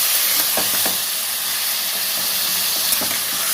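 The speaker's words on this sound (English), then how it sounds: "When I will give this for now and now, I will fry it." Chicken pieces frying hard over a high flame for chilli chicken give a steady, close sizzling hiss that holds at an even level throughout, with a few faint clicks underneath.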